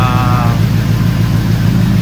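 An LS V8 swapped into a Chevrolet C10 pickup truck idles close up, a loud, steady, deep rumble that stays even throughout.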